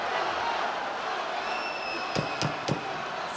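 A boxing crowd roars through a heavyweight bout, a steady far-off wash of cheering under a commentator's voice, with a few sharp thumps near the end.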